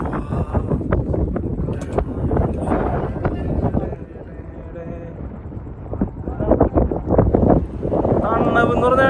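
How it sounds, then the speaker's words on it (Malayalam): Wind buffets the microphone on a hilltop at Khorfakkan Heights, a steady low rumble with gusts that swell and ease while people chat over it throughout. "നമുക്ക് ഇവിടെ നല്ല കാറ്റുണ്ട് കേട്ടോ"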